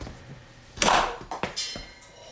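A DeWalt universal joint is twisted under heavy torque until it shears apart, giving a sharp metallic crack followed by a few short clunks and rattles. All of it is close and brief, with no speech.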